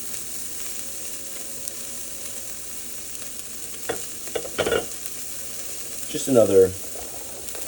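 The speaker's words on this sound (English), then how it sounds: "Don't want to let your garlic get burned. So you're gonna brown it and make it nice and fragrant." Garlic browning in a pan, a faint steady sizzle beneath a few clinks of a utensil being stirred, and a brief spoken phrase near the end.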